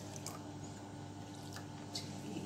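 Water poured into a pan of sugar while making lemon syrup, a steady soft liquid splash and trickle that stays at an even level throughout, close by and without talk.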